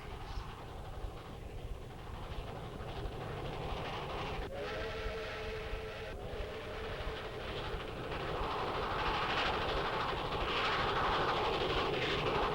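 A train rumbles past in rural Holtville, Alabama, in 1945, with steady rolling noise, and a whistle sounds briefly partway through before the roar swells louder toward the end.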